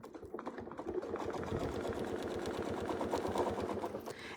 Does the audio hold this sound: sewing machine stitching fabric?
yes